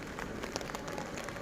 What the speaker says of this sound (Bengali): টানা 3 দিন যাবৎ বৃষ্টি হচ্ছে।